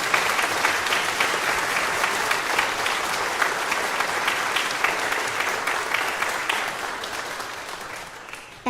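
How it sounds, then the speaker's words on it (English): Sustained applause from an audience at a children's choir concert, steady and dense clapping for a single choir member, holding at even loudness for several seconds before tapering slightly at the end. "You can clap for him."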